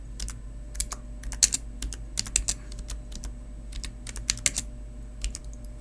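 Steady typing on a computer keyboard while entering a short message into a dialog box on a Linux or Windows automation tool, with rapid, irregular clicks and keystrokes up close in a quiet room.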